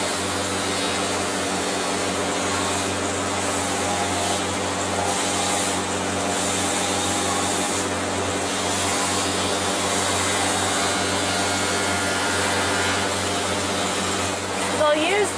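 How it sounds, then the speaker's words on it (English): A machine fitted with a rough sanding cone trims excess plastic from a brace, producing a continuous loud whirring grind that holds steady without pause. "It's a rougher sanding cone, and he's going to use this to make the lines nice and straight"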